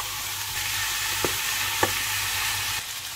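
Meat frying in olive oil with onion in a pan, giving a steady bright sizzle close by, with a couple of soft knocks from a utensil and no talk.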